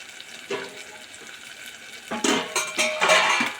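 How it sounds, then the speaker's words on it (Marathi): A lid set down over a pan of cooking onion, papdi beans and tomato: a soft knock, then a few louder metallic clatters and scrapes close by, over a quiet kitchen background. "तर आपण याच्यावरती झाकण ठेवूया"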